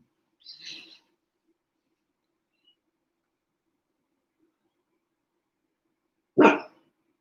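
Indoor dogs give two short barks several seconds apart, the first lighter and higher, the second a louder, sharper single bark, with near silence between.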